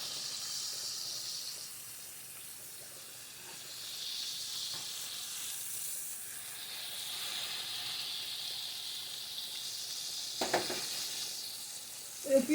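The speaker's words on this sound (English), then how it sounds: "So I'm kind of like deep frying, you might as well say." Turkey chops deep frying in hot oil in a pan give a steady, soft sizzling hiss throughout, with a few brief louder crackles and bumps near the end and no talking.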